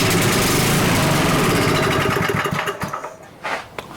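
A Troy-Bilt rototiller engine runs steadily at three-quarter throttle, a loud, close, dense mechanical roar that holds evenly before dipping and stuttering toward the end.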